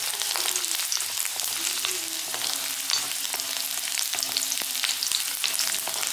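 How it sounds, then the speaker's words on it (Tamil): About ten garlic cloves frying on a low flame in oil left over from roasting chilies, a loud, continuous bubbling sizzle with dense crackles and no voices. "அதே அந்த மிளகா வறுத்த எண்ணெயிலேயே ஒரு 10 பூண்டு போட்டுக்கிறோம்."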